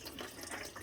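Coolant trickles steadily out of a Mustang's open radiator drain plug, a continuous close, soft splashing and running-liquid hiss with no voices.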